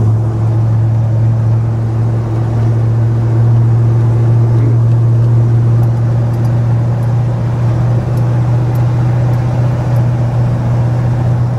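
A 1982 Ford F150 pickup with a 351W V8 drones steadily as it climbs uphill, a loud, constant low engine hum with road rumble and no pauses.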